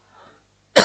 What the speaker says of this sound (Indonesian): Ini saya batuk bukan corona loh saudara